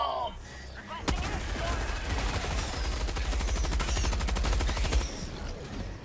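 Sustained automatic machine gun fire in Helldivers 2, one long rapid burst of shots lasting several seconds, loud and close, with a brief voice at the start.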